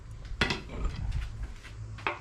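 A hammer knocks at the intake manifold of a scrapyard small block Chevy stuck on broken bolts, two sharp metallic blows about a second and a half apart with rattling in between.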